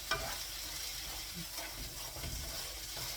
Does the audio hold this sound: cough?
no